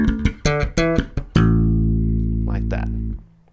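Slap bass guitar line from a beginner lesson: a few sharp percussive slapped and popped notes in quick succession, then one low note rings out and sustains before being muted, close and clear.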